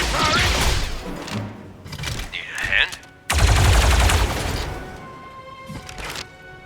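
Bursts of gunfire and crashing impacts ring out in the Star Wars Zero Company video game, with dense rapid shots, thuds and a loud blast midway. Tactical combat plays close and loud, with voices in the background.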